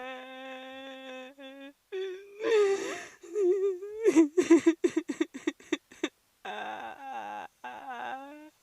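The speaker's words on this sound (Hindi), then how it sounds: "उसके बाद मुझे बाहर किसी के रोने की आवाज़ें आने लगी।" Eerie wailing cries, like someone weeping outside in a horror scene, rise and fall in drawn-out moans, then break into short sobbing gasps before a final quavering wail.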